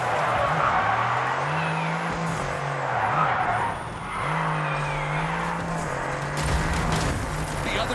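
Cars in the Destruction AllStars video game drive with a steady, loud engine drone that rises and falls in pitch, with tire skids and squeals over the top throughout.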